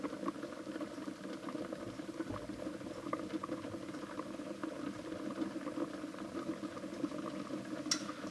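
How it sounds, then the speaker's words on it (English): A pot of pork chops at the boil, a steady close bubbling and pattering of liquid with a low hum underneath, continuous and unbroken, no talk. "obviously we've come to the boil now"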